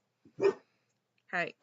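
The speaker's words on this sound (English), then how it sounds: "my dogs are acting crazy in the background" Two short dog barks separated by a pause, fairly faint and indoors, with a brief spoken word before the first one.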